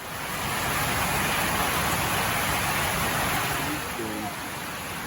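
Dense, steady hiss of a heavy rain downpour in Northland, New Zealand pours down continuously, loud and broadband, with a faint voice-like murmur near the end.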